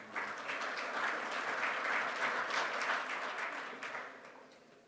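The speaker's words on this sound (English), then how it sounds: "So let's hear a nice round of applause for Jorge Lang of D'Angelo Marine Exhaust" A conference audience applauds a marine exhaust company presenter: a steady, fairly faint wash of many hands clapping that holds for about four seconds and then fades out.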